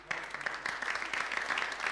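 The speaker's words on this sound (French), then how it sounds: "Je vais vous demander de faire beaucoup d'applaudissements pour ce poids lourd de la musique bobolaise" Audience applause for a singer on a Burkina Faso TV variety show, a moderate wash of scattered clapping with some individual claps standing out, steady over a short stretch.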